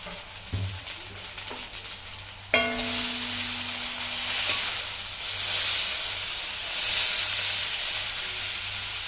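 Hakka noodles frying in a hot pan, with a few faint clinks and a brief tonal hum before a sudden burst of sizzling that settles into a steady, loud frying hiss.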